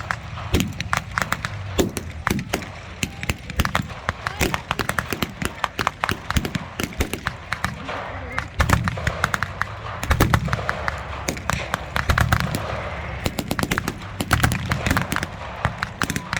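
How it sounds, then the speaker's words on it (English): Gunfire from German half-tracks rings out in a WWII battle reenactment, with rapid, irregular sharp bangs and bursts crackling continuously from a moderate distance, dense and uneven throughout with no talk. "Heavy fire is now exchanged from both sides."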